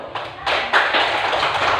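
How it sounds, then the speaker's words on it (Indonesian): A group of trainees claps hands together during an on-the-job training session, a dense burst of clapping that swells partway through and carries on steadily at close range. "boleh tepuk tangan dulu"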